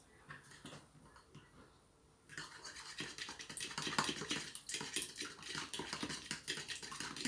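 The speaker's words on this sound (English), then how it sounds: "Once I finish mixing all of this together, I'm going to turn it into scrambled eggs with the pan." Eggs being whisked for scrambled eggs, a quick rapid scratching and tapping of utensil against bowl that starts quietly, then grows busier and louder, with no talking.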